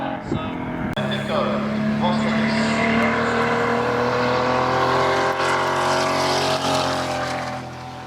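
A 1992 BMW E30 race car climbs the Simola Hillclimb, engine note sweeping up through the gears with a brief shift break near the start, loud and sustained.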